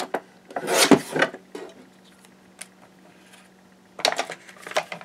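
Sheet of card stock being cut in short scraping strokes, with two bursts of rasping rubs separated by quieter gaps and light taps, close and dry.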